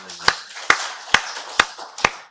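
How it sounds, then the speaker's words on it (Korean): A church congregation at Sunday worship claps five times in slow, even rhythm: sharp, loud, close claps with quiet gaps between them. "살아계신 하나님께 박수 영광 드리겠습니다"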